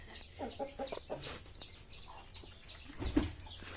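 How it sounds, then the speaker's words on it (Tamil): A free-range country hen clucks repeatedly in short, choppy bursts close by, with a few sharper squawks mixed in and a low rumble behind. "இது எங்கள் வீட்டில் நாங்கள் வளர்க்குற கோழி"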